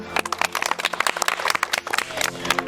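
A small group claps for a team, a quick burst of close, uneven hand claps lasting a few seconds, with no crowd roar.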